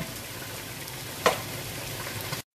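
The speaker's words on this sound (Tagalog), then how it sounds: "habang pinababrown pa natin ang ating chicken doon sa side na yan" Chicken pieces browning in a hot pan for chicken biryani sizzle and fry steadily up close, with a brief louder spatter near the middle and a sudden cut at the end.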